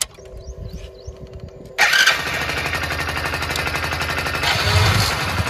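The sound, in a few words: motorcycle engine starting, bike with connected silencers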